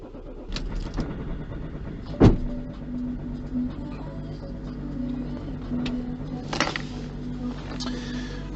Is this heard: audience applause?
no